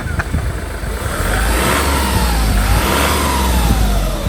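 A wrecked car's engine revs up and holds a steady, loud, close drone as it pulls away, the pitch rising and falling with the throttle.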